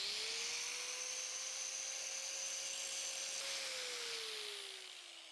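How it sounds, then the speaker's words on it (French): A power tool whines at a steady high pitch while rounding the corners of a rear nut on a workbench front vise. The pitch rises slightly, holds, then sags as the tool winds down. "il va quand même falloir que j'arrondisse les angles sur l'écrou arrière"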